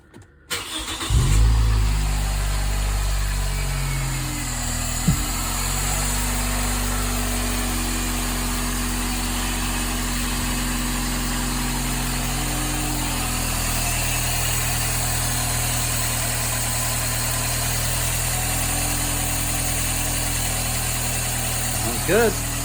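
Scion xB car engine starting with a short crank, then settling into a steady, close idle with a low, even hum that runs for about twenty seconds, with a brief knock or two and occasional voices underneath.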